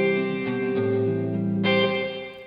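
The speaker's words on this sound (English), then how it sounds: "So here is just the medium reverb." Sustained guitar chords ring out through a medium reverb panned to the left side, tones blooming and overlapping with a fresh strum partway through, no voices.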